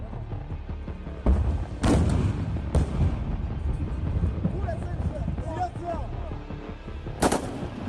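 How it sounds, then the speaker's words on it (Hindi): Scattered gunshots crack out in wartime Kharkiv in winter, a few sharp loud bangs spaced seconds apart, over rumbling background noise with voices. "आमने सामने से गोलियां चल रही हैं और धुआंधार चल रही हैं।"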